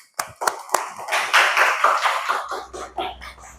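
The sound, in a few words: classroom clapping for Nadine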